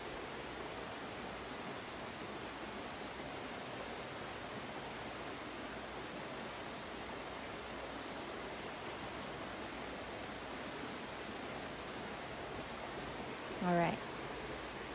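Water flows in a constant, even rush of broadband noise that holds level throughout, with a brief faint tonal chirp near the end.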